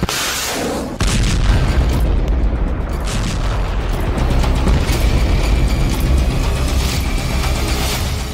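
Heavy, rumbling blasts roll continuously with deep booming low end, a sustained wall of explosive noise without speech.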